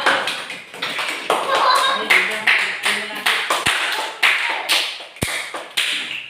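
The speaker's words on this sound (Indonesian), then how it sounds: "Yuk, tepuk tangan buat kelompok 2" A classroom of students claps for group 2 in rhythmic bursts, short patterned rounds of close hand claps repeating with small pauses, with voices mixed in.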